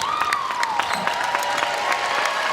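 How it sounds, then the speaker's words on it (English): Crowd applause and cheering at a UCLA basketball game in Pauley Pavilion, a steady dense wash of clapping from the arena stands with a few sharp claps and whoops poking out of the roar. "Round of applause starts to rain down here at Pauley"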